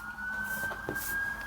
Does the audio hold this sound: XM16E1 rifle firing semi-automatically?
no